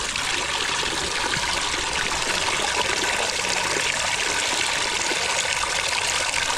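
Cold spring water at Ain Zarka near Tetouan pours steadily into a small bottle, a constant loud rushing splash with no breaks and no voices.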